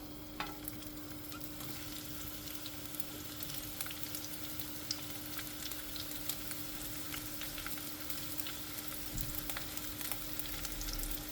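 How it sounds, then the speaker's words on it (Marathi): Chopped onion frying steadily in hot oil, a continuous bright sizzle at moderate, even loudness with occasional crackles and pops throughout, heard alone without talk. "गरम जाले तो पळय कांदो घालता भाजपाक"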